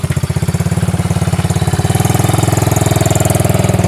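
A 125cc quad bike engine runs steadily in first gear, a close, loud, buzzing putter that rises slightly in pitch as it picks up speed throughout.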